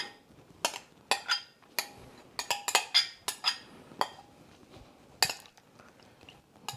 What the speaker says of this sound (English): We just mix everything into our bowl.